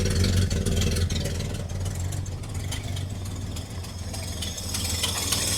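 1983 Ford F-100 pickup with an inline six, idling rough with an exhaust leak, a low, uneven engine rumble that spits and sputters with irregular pops, heard close by and without talk.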